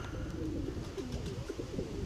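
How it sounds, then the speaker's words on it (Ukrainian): Freshly released pigeons coo and flutter in a north wind, a soft continuous murmur of calls over breezy outdoor rumble. "Підкинув голубів."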